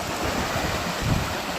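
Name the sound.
flood water running through Thorn Lock on the River Don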